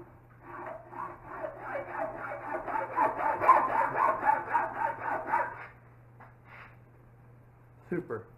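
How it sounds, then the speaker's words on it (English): A hand saw cuts through aluminum tube in a run of close, rhythmic rasping strokes lasting several seconds under a low steady hum, followed by quieter scrapes and a brief clatter near the end. "Super easy to cut aluminum tube."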